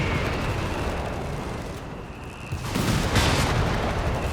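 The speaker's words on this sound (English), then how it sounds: "Building finally gives up there under continued and unrelenting punishment of British artillery." Continuous rumbling barrage of British artillery shells pounding a building in Company of Heroes 3, dense booms and crackling debris throughout, swelling louder toward the end with no talk.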